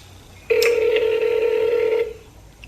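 A steady electronic phone tone from a call being dialed sounds for about a second and a half, loud and close, then cuts off, with a couple of brief keypress beeps near its start.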